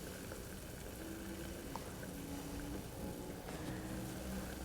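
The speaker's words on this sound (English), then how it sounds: "Our stock is boiling." Lemongrass chicken stock bubbling in a covered pot, a steady low rumbling boil that stays even and continuous throughout, with no voices over it.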